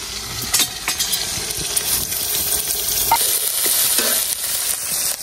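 Onion and garlic crackle and fry in oil in a wok for a hill-style shutki and dhenki greens dish, a bright continuous sizzle with spatters and occasional metallic stirring knocks, close and loud.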